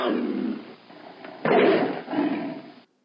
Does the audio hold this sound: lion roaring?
yes